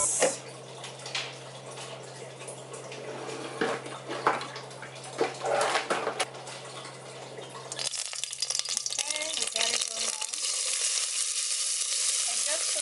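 Olive oil heats in a pot for a healthy soup, a close, steady hiss and sizzle with a low hum at first, then brighter crackling that continues to the end.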